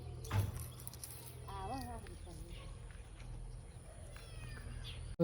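A cat meows a couple of times, a short wavering cry, against a quiet outdoor background with a faint voice nearby.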